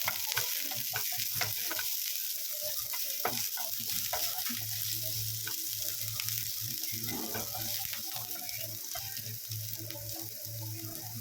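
Chopped green chillies stirred in a hot frying pan of oil, a steady sizzle broken by repeated spatula scrapes and clinks throughout, with a low hum beneath and no talking.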